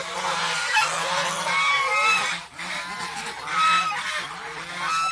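Farm ducks honk loudly and repeatedly at close range, a raucous overlapping chorus of nasal calls that rises and falls in waves without pause.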